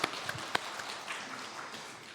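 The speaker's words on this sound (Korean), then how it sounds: "하나님께 영광의 박수 올리겠습니다" A church congregation at a Sunday worship service at Bucheon Nakwon Church gives a brief round of applause, heard as faint, distant, steady clapping over a couple of seconds.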